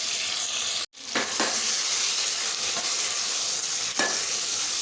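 Tomatoes fry in a pan for mutton aloo gosht, a steady close sizzle with a few scraping stirs and one brief gap, no voices.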